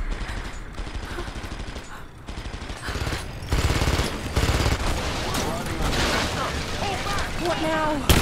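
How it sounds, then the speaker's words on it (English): Rapid blasts and crackling bursts from explosions in Rise of the Tomb Raider, loud and continuous, with heavy booms rising midway and gunfire-like rattling throughout. "It's another section where I'm running away from things while they explode."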